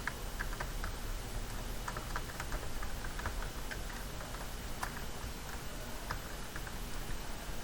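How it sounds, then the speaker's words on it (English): Light keyboard typing with scattered soft clicks over a steady background hiss, irregular in rhythm and close by. "For now I will be typing hello world."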